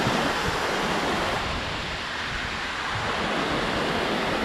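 Hidden waterfall in Gujarat, a loud, continuous roar of rushing water with wind buffeting the microphone, no voices present.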